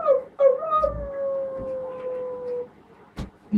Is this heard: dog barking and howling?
yes